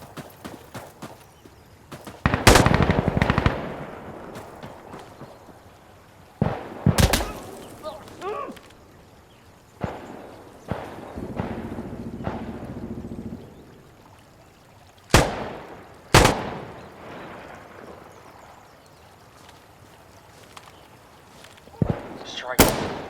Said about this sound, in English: Explosive artillery.